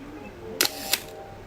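A Canon FT QL film camera shutter set to 1/4 second fires close up: a sharp mechanical snap as it opens, then a second crisp click about a third of a second later as it closes, in a quiet room.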